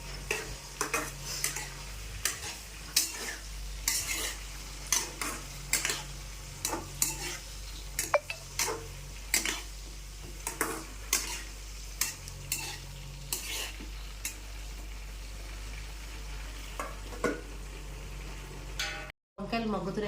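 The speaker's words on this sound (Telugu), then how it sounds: "ఒకసారి కలుపుకొని మూత పెట్టేసుకుందాం" A spoon stirring brinjal curry in a pan with oil, Guntur-style vankaya karam, giving steady rhythmic scraping and soft sizzling clicks at low volume, with a voice speaking intermittently over it.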